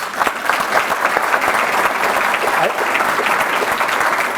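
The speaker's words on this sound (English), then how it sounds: "The folks who began the Hall of Fame deserve a big round of applause" Audience applause for the founders of a high school athletic Hall of Fame, a dense, steady wash of many hands clapping that holds at full strength for the whole stretch.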